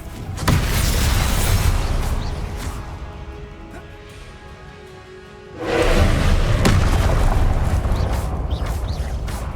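Blasting-curse explosions go off in Hogwarts Legacy as heavy booming thuds and whooshes over a rumbling game soundscape. The racket dips for a few seconds, then surges back loud.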